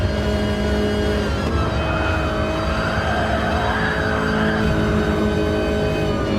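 Race car engines on track in GT Sport, a loud, steady drone of engines with squealing tires and rising and falling revs.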